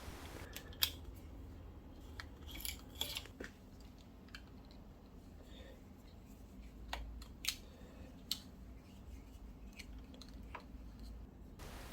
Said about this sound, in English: The simplest way is to cut the cable using a cable cutter.